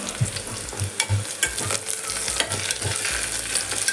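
Onions and green chillies fry in a pan for mushroom biryani, a steady sizzle broken by frequent rhythmic clatters and scrapes of stirring, up close and fairly loud.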